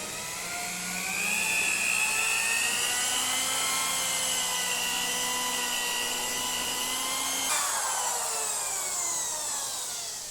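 A cordless drill with a polishing pad whirs steadily against a scratched car window, its high-pitched motor whine rising slightly and holding level, then shifting pitch near the end, close and continuous with no talking.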